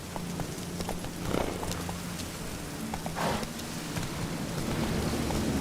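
Horse Roach's hooves clop steadily in The Witcher 3, a fairly loud gallop over a wet, rain-soaked game ambience with low background rumble and no talking.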